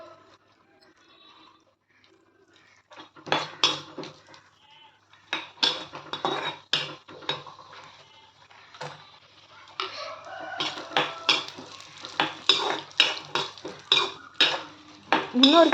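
Cashews and raisins frying in a pan are stirred with a utensil, giving repeated sharp scrapes and clinks of metal in an irregular rhythm, moderately close, with faint background sounds.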